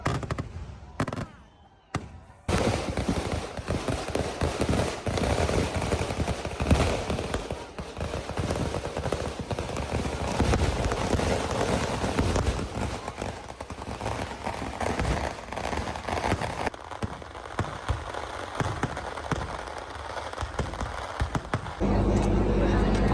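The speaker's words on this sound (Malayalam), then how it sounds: "ഭയങ്കര സൗണ്ട് വെടി" Loud fireworks display at a crowded Theyyam festival in Kerala, with a dense, continuous barrage of sharp cracking bursts and rapid popping like gunfire, sustained and near, with faint crowd voices underneath.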